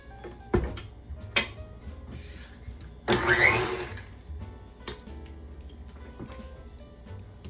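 Electric mixer whirring as it beats gluten-free bagel batter in a bowl, a steady mechanical hum with clacking knocks and one louder, rougher surge partway through, close and without talk.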